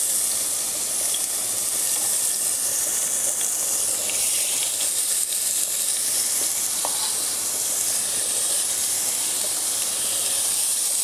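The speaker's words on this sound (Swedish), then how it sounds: "Nu ska jag fräsa allt det här tillsammans så att allting mjukgörs" Vegetables sizzle in hot oil in a pot while being sautéed for pasta pomodoro, a steady, close hiss that continues without a break.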